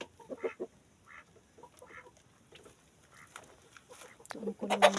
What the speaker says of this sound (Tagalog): Naririnig mo yung itik.